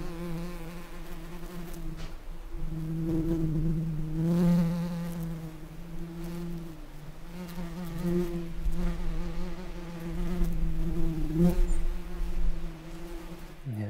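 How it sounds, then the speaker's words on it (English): Bees buzz steadily and continuously around flowers, a low droning hum that swells and fades slightly as they move about nearby, with no talking. "So just take a listen at the sound of the bees here."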